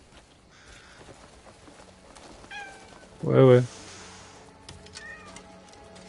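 Cats in the video game Crimson Desert meow in a few short calls, one louder and closer than the others, over quiet game ambience, with someone briefly speaking.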